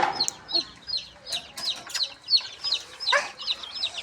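Chickens cluck in quick repeated bursts, several birds nearby, with sharp short calls recurring every fraction of a second.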